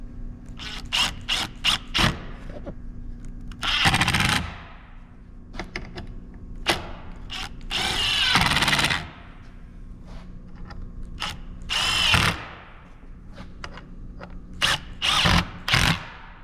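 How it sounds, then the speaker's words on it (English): A power drill drives screws into a wooden epoxy form, with several short whirring bursts between quick clicks and handling taps. Each screw ends in a longer, loud drive, and no one speaks. "we put these screws in"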